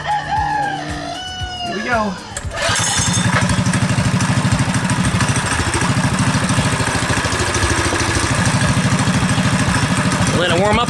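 A cold-started go kart engine with a KT196 motor settles into a steady, rattling idle after a pull start. The idle is loud and continuous, with a rooster crowing and people talking over the first moments.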